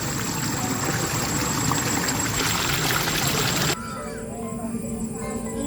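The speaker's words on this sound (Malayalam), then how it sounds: "വെള്ളത്തിന്റെ സൗണ്ട് കേട്ടാ തോട്." A forest stream flows in a steady, broad wash of water, with crows cawing now and then; the rushing sound drops noticeably in level partway through but continues to the end.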